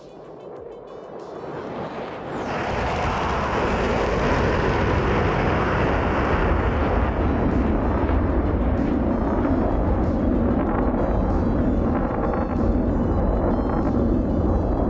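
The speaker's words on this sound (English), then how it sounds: "A little bit of NATO jet sounds in the morning." A NATO jet in the DCS World flight game spools up and swells into a loud, sustained roar within a few seconds, then holds steady and close, a broad rushing drone that continues to the end.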